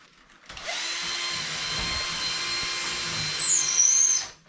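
A power drill on drywall whirs steadily for several seconds after a short start, whining a bit higher near the end before it stops.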